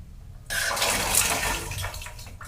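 A tap on a gas water heater setup is opened by mistake, and water suddenly sprays out in a loud, hissing burst that then tapers into splashing.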